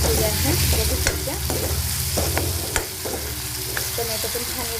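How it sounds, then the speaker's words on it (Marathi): Spices sizzle hard in hot oil for a tempering for a dry cauliflower and pea curry, a loud, steady frying hiss broken by clicks and scrapes of stirring. "त्यासाठी आपण कडक फोडणी करून घेतलेली आहे, बघू शकता"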